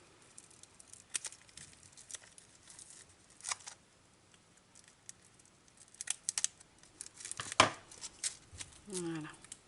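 Scissors snipping open new packaging, a scattered series of sharp close cuts and plastic crinkles with pauses between them, ending in a louder rustle and a brief voice.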